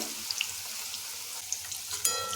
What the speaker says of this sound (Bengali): একটা একটা করে সব সবজিগুলো মোটামুটি ভাজা হয়ে গেল।